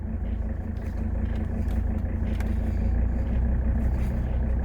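A 1979 Mercedes 300SD diesel engine idles steadily and close by, with a low, even rumble that climbs slightly in speed as the idle adjustment is turned up.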